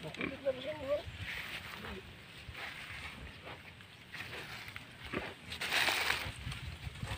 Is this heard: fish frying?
no